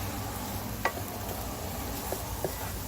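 Onion fries in a pan for a mushroom chicken curry, a faint steady sizzle broken by a few light clicks of stirring.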